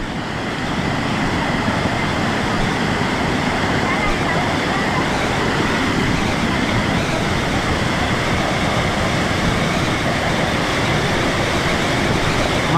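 Thermal water flows among reeds in a steady, dense rushing wash that holds at a constant level from start to finish, with no other sound standing out above it.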